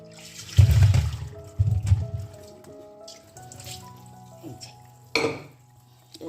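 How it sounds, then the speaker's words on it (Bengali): Tap water runs into a sink basin, with washing of boiled potatoes in a vessel: a few bursts of splashing and gurgling, a brief clatter of a pot, then softer trickling and a final splash. "এটা বেসিনে বসে দিই জলটা ছেড়ে দিই"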